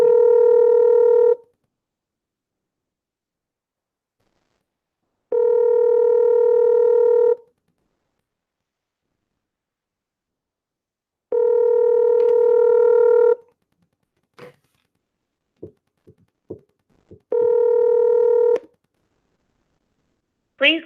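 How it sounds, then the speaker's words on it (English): An outgoing phone call rings back in evenly spaced two-second tones, four rings separated by silence, with a few short clicks and a brief voice fragment between the last rings before the call goes to voicemail. "if y'all can hear the phone ringing, hit 1"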